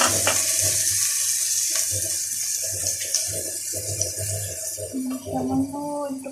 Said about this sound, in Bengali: সামান্য একটুখানি পানি দিয়ে দেবো